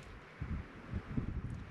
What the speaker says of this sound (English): It's pretty open and windy,